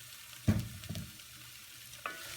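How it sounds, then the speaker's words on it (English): Chopped sweet potatoes stirred in a soup pot with a spoon, two or three short scraping knocks against the pot over a faint sizzle, close and fairly quiet. "Give them a little stir."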